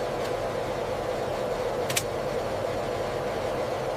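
An F-35 fighter jet engine running at maximum thrust during a ground run gives a steady, dense broadband roar that holds level for the whole stretch, with a brief hiss near the middle.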